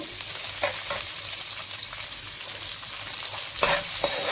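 Onion added to a hot pan of oil while cooking liver, frying with a steady loud sizzle and occasional stirring scrapes, close up, with no talking.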